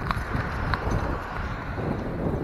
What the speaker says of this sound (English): A person on a horse and buggy just passed me.